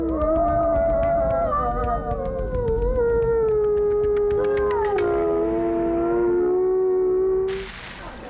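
Wolves howl to call the pack when a rival pack comes close. Several long, overlapping, sliding howls sound loud and near, hold for several seconds, then end with a brief burst of noise.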